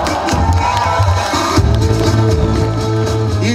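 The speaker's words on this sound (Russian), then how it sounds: "Ваши аплодисменты, друзья!" Loud crowd cheering and shouting at the award ceremony of the Smolensk Starfall 2014 festival, a dense, continuous roar of many voices with a swell partway through.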